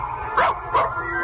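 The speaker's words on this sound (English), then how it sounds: "It's a dog, all right. Big and as angry sounding as a losing football coach between the halves." A big, angry dog in a radio drama gives short, rough barks and yips over a continuous low growl, three close, loud bursts in quick succession.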